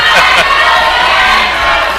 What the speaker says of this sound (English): Right now the crowd is definitely getting behind Jacob Ashworth.